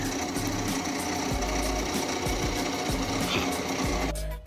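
A small power drill with a tiny bit whirs steadily at close range with a rapid rhythmic chatter, then cuts off abruptly at the end.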